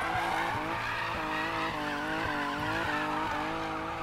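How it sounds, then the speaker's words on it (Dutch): Race car engine in Need For Speed Payback roaring continuously with rising and falling revs and gear shifts, tires squealing and skidding throughout, loud and close. "deze auto klinkt weer."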